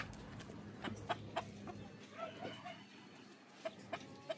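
Hens and a small rooster cluck softly in a backyard coop at dusk, a few sharp short calls popping out over a steady low murmur of poultry, fairly close.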